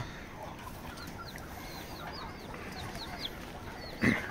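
Native village chickens cluck softly on a farm in a string of faint short calls over steady background noise, with one louder bump near the end.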